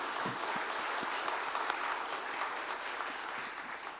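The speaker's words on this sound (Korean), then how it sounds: "큰 박수로 한번 격려하겠습니다" A church congregation at a scholarship committee dedication service bursts into steady, even applause, a broad hiss of many hands that holds for the whole stretch and fades slightly at the end.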